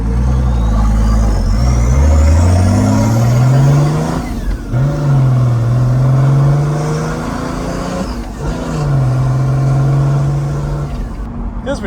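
Turbocharged Mercedes OM603 diesel engine on its stock turbo revs hard and accelerates, running loud and close with rising and falling pitch sweeps over about twelve seconds.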